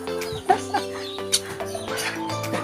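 Birds on a bird farm cluck and chirp nearby in short, irregular bursts, with chicken-like calls standing out, no talking.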